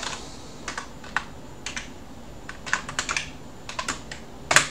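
Typing on a computer keyboard during an Arch Linux installation, with irregular bursts of key clicks separated by short pauses and a louder cluster of strokes at the end, close and clear with no talking.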